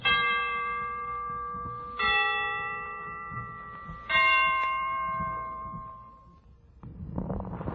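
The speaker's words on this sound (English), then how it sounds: "The Christmas bells can ring anytime they're ready" Christmas bells ring out in three clear, evenly spaced strikes, each tone sustaining and slowly fading, heard alone and fairly loud, with faint background noise returning at the end.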